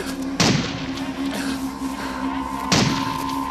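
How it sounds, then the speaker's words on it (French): Two sharp, heavy gunshots ring out a couple of seconds apart, booming over a steady low background hum. "James, t'as entendu les coups de feu?"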